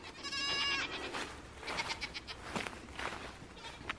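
Goats bleat in a small pasture fenced with electric netting, several close calls overlapping over a few seconds with no talk.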